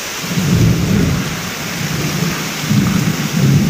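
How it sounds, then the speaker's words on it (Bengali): Heavy rain pouring steadily while low, rolling thunder rumbles in repeated waves, loud and close. "আর মেঘ দেখছো কীভাবে ডাকছে"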